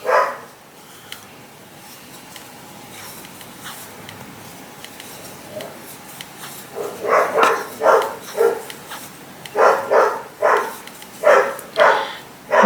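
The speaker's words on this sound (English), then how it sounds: "The dog is barking upstairs" A dog barks from another floor of the house, a run of sharp, muffled barks in quick bursts that begins partway through and keeps coming in clusters, distant and indoors.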